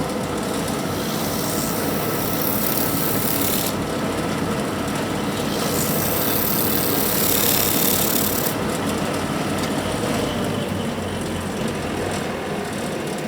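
A disc sander runs loud and steady while a natural rubber cleaning block is pressed against the spinning abrasive disc, a continuous close roar with broad grinding hiss that swells and eases as the block moves back and forth.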